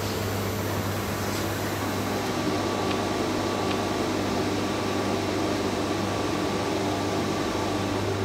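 PCB solder resist UV exposure machine running with its vacuum drawn down, giving a constant, loud mechanical hum and broadband hiss with a steady low drone, unchanging throughout and with no talk.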